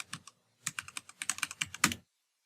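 Rapid bursts of typing on a computer keyboard, close and clear, with a short pause early on before a quicker run of keystrokes and silence at the end.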